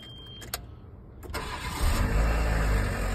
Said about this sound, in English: this is a cold start also